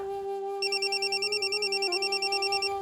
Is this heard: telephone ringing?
yes